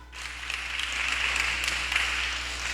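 A church congregation breaks into applause, with many hands clapping in a steady, fairly loud wash lasting a few seconds, slightly reverberant and with no talking over it.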